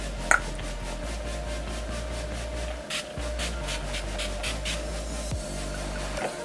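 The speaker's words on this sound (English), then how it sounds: "for setting spray, I'm gonna use this NYX Dewy Finish" NYX Dewy Finish makeup setting spray misted onto a face: a rapid run of short, soft spritzes pulses steadily across the clip, quiet and close, over low background hum, with a brief pause midway.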